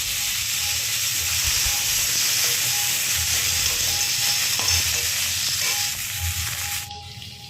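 Chopped onions fry in hot oil for a pomfret curry, giving a loud continuous sizzle close by. Occasional stirring scrapes run through it, and the sizzle eases off near the end.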